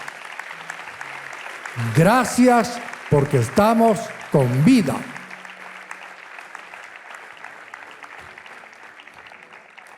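Church congregation applauding, a continuous bed of clapping running under a voice speaking loudly in bursts, the clapping thinning gradually toward the end.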